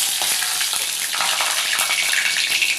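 Bay leaf dropped into hot oil in a pan, with fennel, cardamom and cloves already added, while making a cauliflower and potato gravy: a loud, steady, dense sizzle with faint crackles throughout, no voices.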